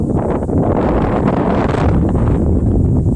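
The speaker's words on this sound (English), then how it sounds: "Wind's windy enough to blow over the tripod." Strong wind buffets the microphone on a hilltop disc golf course, a loud continuous roaring rumble with gusty surges throughout.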